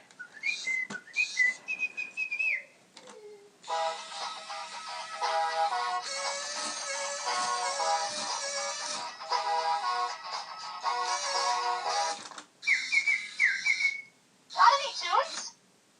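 Bright, chirpy electronic whistling tones from a Little Live Pets CleverKeet toy parakeet play a warbling tune in bursts, with short pauses between phrases, fairly close.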